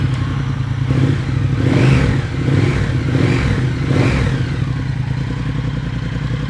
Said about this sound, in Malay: kita start motosikal tu, kita panaskan enjin